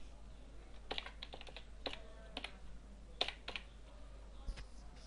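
Scattered keystrokes on a computer keyboard while working in AutoCAD 2012, as sharp isolated clicks in small clusters over a quiet room with a low steady hum, nobody speaking.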